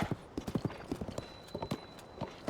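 Horse hooves clip-clop steadily on the ground in Tears of the Kingdom, an even trotting rhythm of distinct close hoof strikes with faint background ambience.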